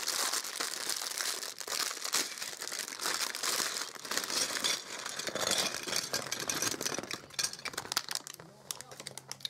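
A plastic bag holding Lego pieces crinkles and rustles close up, continuous and busy throughout, with a voice speaking faintly underneath.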